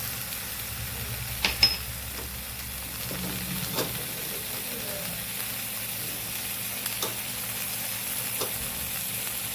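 Ginger-chili paste sizzles in a hot frying pan while cooking Kathiyawadi patra, a steady hiss and crackle with a few sharper spatters and light stirring taps near the start.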